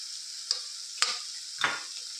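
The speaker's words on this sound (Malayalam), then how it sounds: "ഇവയെല്ലാം നന്നായിട്ട് മിക്സ് ചെയ്തൊന്ന് മൂപ്പിച്ച് മാറ്റാം" Chili, coriander, turmeric and masala powders roasting in a pan, a bright constant sizzle punctuated by three scraping stirs of a spatula, close and clear.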